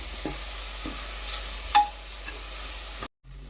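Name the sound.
stirring food in a pot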